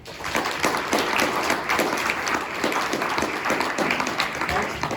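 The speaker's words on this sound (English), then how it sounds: "Let's have a great round of applause to thank Matthew and Abe for being here" A crowd applauds steadily, a dense patter of many hands clapping throughout, with voices mixed into the noise.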